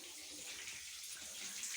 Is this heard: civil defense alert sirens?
no